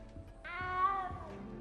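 A cat in the video game Hogwarts Legacy gives one clear, drawn-out meow over quiet game ambience and soft footsteps.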